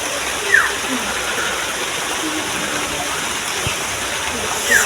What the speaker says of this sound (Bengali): দেখো, জল পড়ছে, খালি জল আর জল।